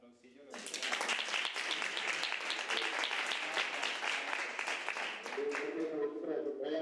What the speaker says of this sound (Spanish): No sé si un aplausillo.